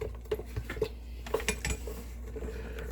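Spoon clinking and scraping in a dish while chopped Thai chili peppers, seeds and all, are stirred together for a fermented hot sauce, with irregular close taps and clinks.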